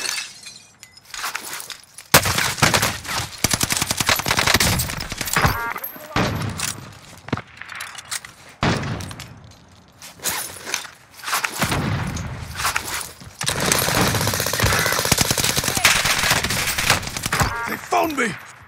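Gunfire and sharp breaking impacts in a Call of Duty: Warzone trios match, loud irregular bursts and clattering crashes scattered through the stretch, with brief in-game voice callouts between them.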